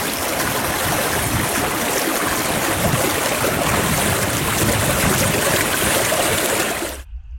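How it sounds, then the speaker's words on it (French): Steady, loud rush of flowing water from the Sorgue spring at Fontaine de Vaucluse, a dense continuous roar that fills the scene and cuts off abruptly near the end, with no voices. "Ici, on est bercé par le bruit de l'eau."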